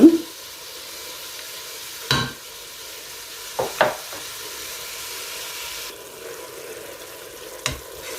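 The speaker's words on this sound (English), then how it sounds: "So we'll just keep stirring until we see our meat is completely as in all round cooked." Meat fries in a pan for mango pasta, a steady soft sizzle with a few clinks and scrapes of stirring scattered throughout.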